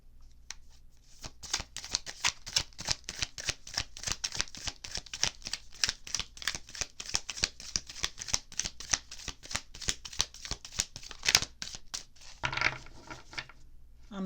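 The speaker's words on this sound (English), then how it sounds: "I'm thinking while I'm shuffling" Tarot cards are shuffled in a long run of quick, crisp riffles and slaps at close range, with a brief clattering burst near the end; no voices.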